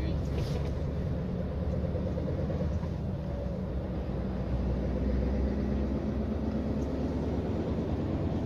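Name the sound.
Scania V8 580 truck coasting in freewheel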